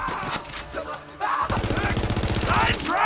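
Automatic gun fire from Borderlands 3, heard as a run of rapid, evenly spaced loud shots from the middle of the clip onward, with looser bursts and scattered game effects before it.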